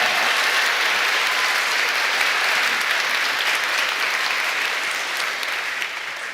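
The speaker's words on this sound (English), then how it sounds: "a round of applause" An audience applauds steadily, a dense wash of clapping that holds for several seconds and fades slightly toward the end, with no voices.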